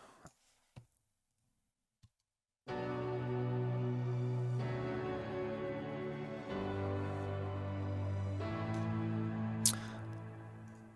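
Slap house track layering a Nexus ghost piano preset with synths, starting after a few faint clicks and then playing as a sustained, steady full mix with shifting chords for the rest of the clip.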